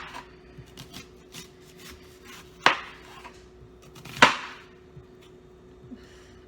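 A knife chops onions on a cutting board in a home kitchen, a few soft scattered taps and two sharper, louder knocks against the board, fairly quiet with a low steady hum behind.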